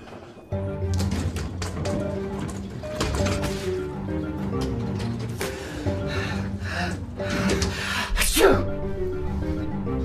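Sneezes burst out amid scuffling and background noise in a short film scene, several sharp bursts spread over the stretch, with a loud one near the end.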